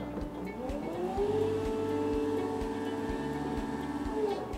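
A reach truck creeps forward into warehouse racking, its electric drive giving a steady rising and falling whine with a low rhythmic thrum beneath, close and continuous throughout.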